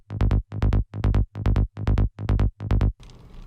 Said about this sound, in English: Today we're going to do a tutorial on how to make a Psytrance bass using Serum,